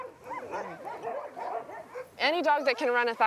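Sled dogs in snow in western Canada let out a burst of excited, close barking and yelping at the end, after a stretch of talking.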